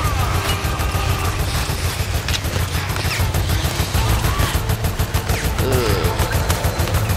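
Sustained video-game gunfire from Resident Evil Operation Raccoon City, dense bursts of shots and automatic fire layered over loud game action with a constant low rumble, playing steadily throughout without letup.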